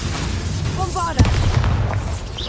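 A Bombarda blasting spell goes off in Hogwarts Legacy, a sharp boom at mid-clip amid a busy battle mix of crackles and whooshes, with a voice speaking under the din.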